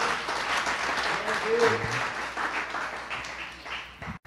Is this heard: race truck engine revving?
no